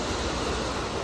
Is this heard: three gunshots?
no